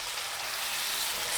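Sausages and tomatoes sizzle steadily in a pan for rougail, a dense hiss of frying that holds even and fairly loud throughout with no voices.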